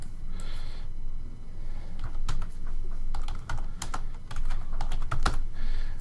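Computer keyboard typing as a credit card number is entered into an online payment form, a close run of quick uneven keystrokes with brief pauses, over steady room hiss.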